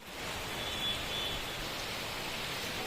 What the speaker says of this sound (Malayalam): ഭയങ്കര മഴയുടെ ശബ്ദം കേട്ട് അപ്പം ഞങ്ങൾ പുറത്തിറങ്ങി നോക്കിയപ്പോൾ കണ്ട കാഴ്ചകളാണ് നിങ്ങൾക്കിപ്പോൾ കാണിച്ചു തരാവേ